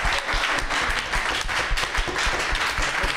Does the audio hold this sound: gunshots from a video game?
no